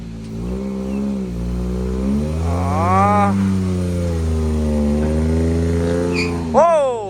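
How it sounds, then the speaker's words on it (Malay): Car engine labouring as it drives uphill, a sustained drone that rises and falls in pitch with revving, rising sharply near the end, loud and close, with someone talking over it. "Tengok abang ni bawa kereta ni naik ke atas guys."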